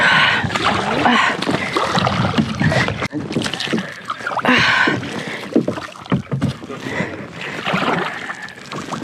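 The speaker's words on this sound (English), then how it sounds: "Just go real slow with your paddle to the mud." Kayak paddle working slowly through shallow muddy water on the Outer Banks of North Carolina, with soft splashes and sloshing in bursts under nearby talking and light wind.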